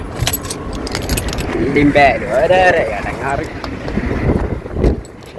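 Keys jangle and rattle in a brief cluster, with a voice and outdoor traffic noise in the background.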